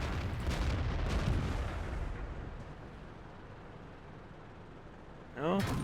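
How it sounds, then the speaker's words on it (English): Artillery in a tank video game: a heavy rumbling boom at the start, rolling and slowly fading, then a short rising whine and impact at the end. "There's artillery again on you"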